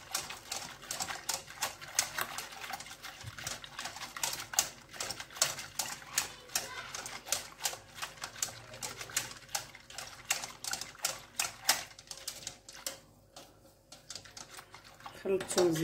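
A utensil stirs muhallabia pudding ingredients in a metal pot, giving rapid, faint scraping and clicking taps in an uneven rhythm, with a person talking quietly at times.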